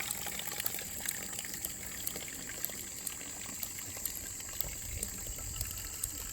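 A homemade ram pump lifts creek water for irrigation, giving a steady trickling, splashing flow with faint regular clicks throughout and no voices.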